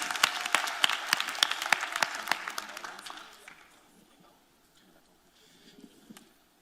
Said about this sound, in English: Ladies and gentlemen, please give a round of applause for our judicial candidates.